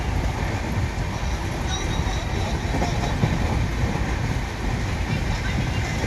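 A train runs along its tracks through countryside past fields, a steady broad rumble with faint rhythmic clatter, constant and moderately loud for the whole stretch, with no clear voice over it.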